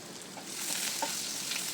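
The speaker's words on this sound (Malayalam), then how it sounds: "കടുക് പൊട്ടി വരുമ്പോൾ അതിലേക്ക് പെരുംജീരകവും ഇഞ്ചി വെളുത്തുള്ളിയും കൂടി ഒന്ന് മിക്സിയിൽ ക്രഷ് ചെയ്തെടുത്തത് ഒന്ന് ചേർത്ത് മൂപ്പിക്കുക" Crushed fennel, ginger and garlic go into hot oil with popping mustard seeds. A soft, close frying sizzle grows slightly louder, with faint crackles and no talking.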